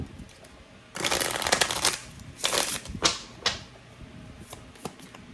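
Tarot cards being shuffled in several quick riffling bursts, close and crisp, with short pauses and light taps between.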